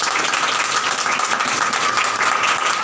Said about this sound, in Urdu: یسوع کے لیے زوردار تالیاں